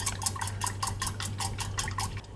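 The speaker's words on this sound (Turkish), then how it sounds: "Geri kalan sütümüzü ilave edip bir adet yumurta sarısı ekleyerek hızlıca karıştırıyoruz." Quick whisking of milk and egg yolk in a pot for Turkish milk halva, a rapid, even run of scraping strokes repeating several times a second, close and steady, over a low hum, with no talking.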